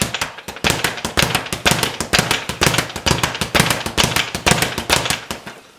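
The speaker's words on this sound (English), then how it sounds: "The harder you hit it, the faster the ball goes." A leather speed bag is punched hard and fast, rattling in a continuous rapid drumroll of sharp, loud close-up impacts with a steady galloping rhythm, and no talking.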